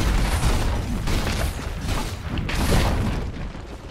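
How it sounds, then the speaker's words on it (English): Repeated booming impacts and explosions as a Dota 2 tower takes attacks, dense low thuds and bursts recurring every second or so, loud and close. "Dire's top tower is under attack."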